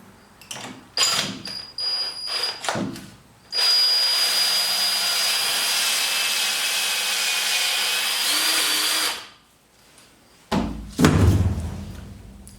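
A power drill with a special bit whines steadily for several seconds as it bores a hole through a wooden subfloor in a school bus conversion, framed by clunks and handling knocks before and after.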